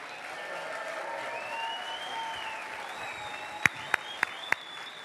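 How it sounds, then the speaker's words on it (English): Crowd applause at the Goodwood Festival of Speed for 1992 Formula One World Champion Nigel Mansell, a soft, distant wash of clapping with a few sharp nearby claps near the end. "Let's have a massive round of applause for the 1992 World Champion, Nigel Mansell."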